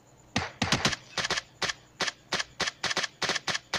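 PUBG Mobile rifle fired in single-shot mode: about fifteen sharp, close shots, some in quick pairs and triplets, spread over a few seconds and loud against a quiet background.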